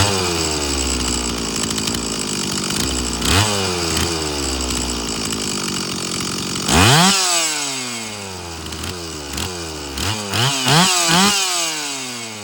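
A repaired Stihl 034 chainsaw engine runs steadily, then revs up and down in loud, whining bursts and falls back to a rough idle, close by with no talking.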